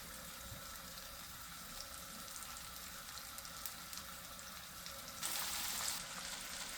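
Fish pan-frying in butter and oil gives a steady, close sizzle with a faint watery crackle throughout, swelling into a brighter, louder hiss near the end.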